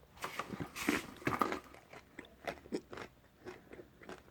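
Someone munches crunchy raw carrots up close, with sharp bites followed by a run of rhythmic, wet crunching chews that fade and return over a few seconds.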